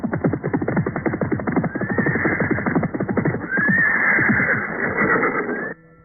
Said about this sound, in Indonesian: mendadak terdengar derap orang-orang berkuda